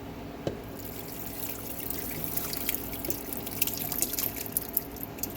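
Alfredo cheese sauce poured into fettuccine pasta, heard as wet dripping, trickling and splattering close up, with small plops throughout and no talking.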